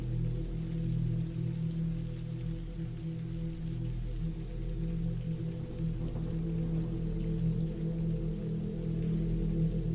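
Steady rain falls as a soft, even hiss that continues unbroken, layered over a low, constant droning hum.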